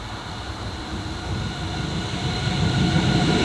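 A train hauled by locomotive 62064 on the Swiss main line near Olten rumbles past, a loud, continuous roar of wheels and rail noise that grows steadily stronger throughout.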